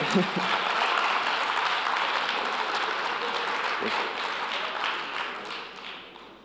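A large convention audience at EVE Fanfest 2015 applauds the unveiling of the new Caracal spaceship. The dense crowd clapping is loud and steady, carries some voices within it, and tapers off toward the end.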